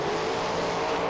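A drag racing car launches at an IHRA Pro Am event at the strip, its engine a loud, sustained roar that holds steady throughout the short burst of acceleration.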